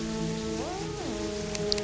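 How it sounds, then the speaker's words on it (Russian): Rain dripping in a video game, a soft, steady patter of drops under tonal in-game music, fairly faint and continuous throughout. "Только откуда тут дождь капает"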